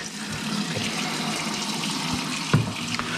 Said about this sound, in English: So I'm going to rinse my hands just real quick